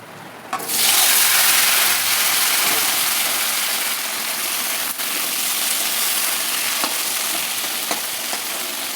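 Cut vegetables drop into hot oil tempered with panch phoron and bay leaf, setting off a sudden loud, close, steady sizzle that continues with light stirring scrapes, no voices.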